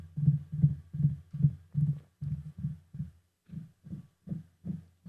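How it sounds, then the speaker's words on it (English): Fingers tap a hard desk near a shock-mounted microphone in a steady run of dull, low thuds, about a dozen knocks in different places with a short pause partway through. "So note what happens when I wrap my fingers on the desk."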